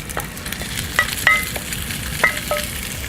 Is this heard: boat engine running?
no